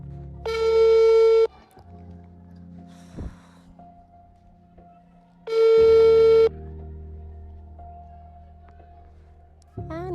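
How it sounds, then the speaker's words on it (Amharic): Ringback tone of an outgoing phone call that goes unanswered: long, steady, buzzy tones about a second each, repeating roughly every five seconds with quiet gaps, plus a third tone starting at the end. "እየጠራ ነው እናያለን።"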